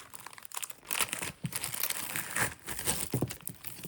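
An emptied plastic bead bag crinkling and crumpling in handling, close and fairly soft, in irregular bursts of rustle with brief pauses between.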